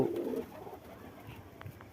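Pigeons coo softly in a pigeon house, a few low murmuring calls close by over quiet background noise.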